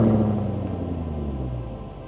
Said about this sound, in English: if that exhaust note didn't catch your ear